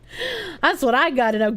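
A voice imitates an alarm, letting out a high, piercing screech that bends downward, then goes straight into ordinary speech.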